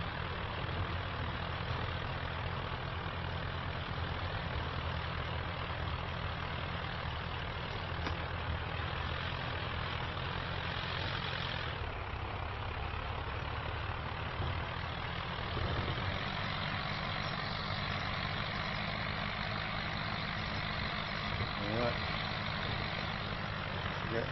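A tractor engine idles in a farm field in Farming Simulator 25, a steady low rumbling drone that holds evenly for a long stretch, shifting slightly in tone partway through, with no talking.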